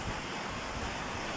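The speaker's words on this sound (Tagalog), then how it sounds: "Medyo malakas-lakas ng hangin." Strong, steady roar of typhoon wind buffeting the microphone, continuous and loud with a broad rushing texture, amid rain in Lipa, Batangas, Philippines.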